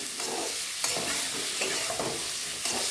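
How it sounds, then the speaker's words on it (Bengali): Taro pieces fry in a pan with turmeric and salt, a continuous close sizzle broken by several stirring scrapes at uneven intervals. "এবার আমি একটু ভেজে নেব কচুটাকে"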